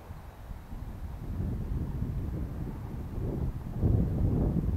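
Steady wind buffets the microphone at a model airplane flying field, a continuous low rumbling roar that swells slightly toward the end, with no voices.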